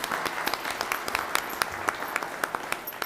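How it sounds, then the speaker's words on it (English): Audience applause for scholarship recipients at a public meeting, a steady patter of many hands clapping throughout, moderately loud and even in rhythm, with no talking over it. "So a big round of applause to the recipients."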